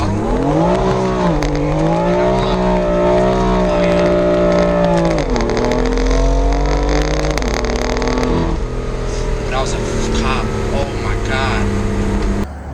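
A 2016 BMW M4 Competition F82 sports car drives along with a loud, steady engine note that rises and shifts through the gears, while someone talks over it throughout.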